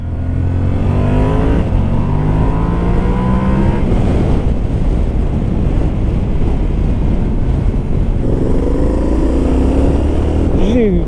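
A Yamaha Tenere 700 motorcycle pulls in third gear, engine tones rising and falling in sweeping revs under heavy wind buffeting on the microphone, with a rider's voice heard over it.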